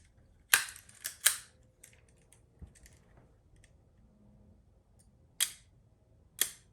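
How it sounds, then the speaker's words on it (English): Several crisp mechanical clicks close up, a used Leica M2 rangefinder camera shutter firing a few times with pauses between, plus faint handling noises in a quiet room. "Wow, the sound of Leica."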